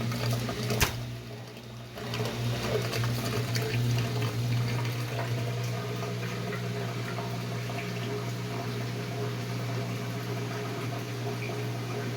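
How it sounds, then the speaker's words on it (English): Water drains from a Whirlpool Duet washer's hose, which has a long-drain fault, as a continuous gushing trickle over a low motor hum. The flow is close and steady after a brief knock at the start. "the water coming out of the hose here."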